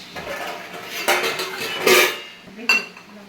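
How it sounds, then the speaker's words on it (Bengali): Cooked bati chorchori, a Bengali vegetable curry, served from the pot into a bowl: close, bright metallic clinks and scrapes of dishes and utensils in short bursts, with a final sharp clink. "বাটিতে রাখছি, বাটি চচ্চড়িটা করে দেখুন"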